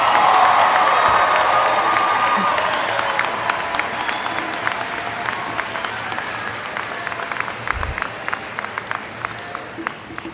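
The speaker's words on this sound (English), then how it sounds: "Give yourselves one more round of applause." Graduates at a university spring commencement applaud and cheer in a long, dense ovation that fades slowly over ten seconds, with scattered whoops and a voice at the start.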